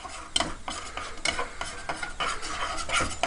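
A whisk scrapes and clatters against a pan as flour is beaten into gravy, with quick, uneven metallic strokes close by and a faint sizzle underneath.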